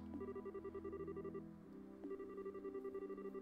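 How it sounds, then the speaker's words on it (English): A faint bell rings in a quick repeating pattern of clear tones, heard alone with nothing else around it. "there was the faint sound of a bell."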